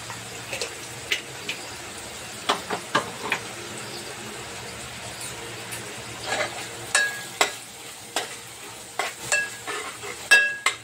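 Kashmiri red chili powder and kasuri methi frying in a pan, a soft steady sizzle broken by repeated scraping stirs and light utensil clinks, close and moderately quiet.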